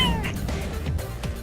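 A cartoon cat lets out a short meow, close and clear over a bed of busy background sound.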